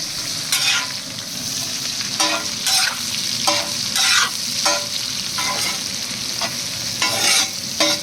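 Chopped ginger and onion sizzle and fry in a pan while the mix is stirred in steady scrapes, with bursts of crackle recurring every second or so, close and fairly loud, no voices.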